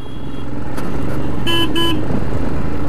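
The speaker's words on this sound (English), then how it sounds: "Oh yeah, another thing, the horn." A car horn sounds a quick two-note beep-beep, the Road Runner cartoon call, loud and close over a running engine and road noise.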